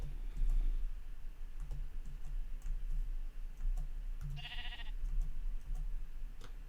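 A single short sheep bleat in Minecraft sounds once midway through the clip, over a soft bed of clicking and ambient noise, with no speech.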